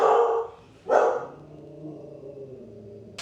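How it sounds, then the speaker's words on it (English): A pet dog barking at the neighbors indoors, two loud sharp barks close by about a second apart, followed by a low rumbling growl that trails off into quiet. "My dog started barking at my neighbors."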